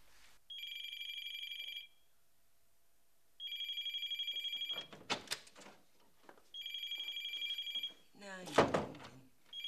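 A telephone rings in repeated electronic trilling bursts, three clear rings with pauses between, mixed with door thuds and movement noises in a domestic scene.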